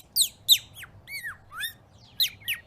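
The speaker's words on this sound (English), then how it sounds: "Brown Bird's song makes me really happy." Brown Bird, a children's show character, sings a whistly song of quick bright chirps and sliding whistled notes in short bursts, close and clear with no talking.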